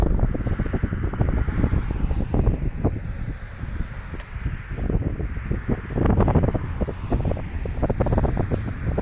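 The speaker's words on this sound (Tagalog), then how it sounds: "Sobrang hangin." Strong wind buffets the microphone in heavy, rumbling gusts that rise and fall, with a rustling hiss underneath.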